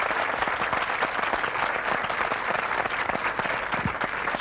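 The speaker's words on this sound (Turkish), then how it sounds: "Buradan bir alkışlayalım bakalım Yunanistan'a." A television studio audience at a Turkish variety show claps in a sustained, even burst of applause that holds at a steady level from start to finish.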